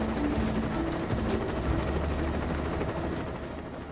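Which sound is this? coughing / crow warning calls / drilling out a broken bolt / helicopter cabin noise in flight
helicopter cabin noise in flight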